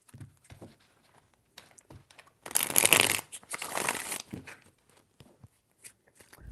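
Tarot cards being shuffled by hand, a cluster of soft papery riffles and slides with a louder burst in the middle, close and fairly quiet, with brief gaps between bursts.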